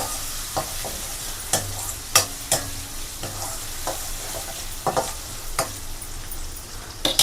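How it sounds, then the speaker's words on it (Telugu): Onions and green chilies fry in a pan for a bitter gourd curry, a continuous close sizzle punctuated by repeated sharp spatula scrapes and knocks against the pan. "ఇవిగోండి ఆనియన్స్ చూసారా వేగుతున్నాయి కదా"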